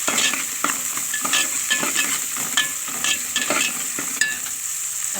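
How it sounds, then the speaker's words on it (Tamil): Green chillies frying in oil along with small onions, a bright close sizzle broken by repeated scraping stirs of a spoon against the pan. "லைட்டாக வதக்கிக்கோங்க. 2 பச்சை மிளகா போட்டுக்கோங்க."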